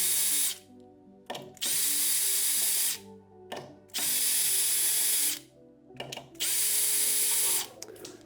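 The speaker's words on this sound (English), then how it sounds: "now I can take out the 4 screws that will allow me to pull out the piston" Power drill driving out the four screws of a CSI Signature 4 Series water softener control valve, three loud whirring bursts of about a second each separated by short pauses with faint ratcheting clicks, no voices.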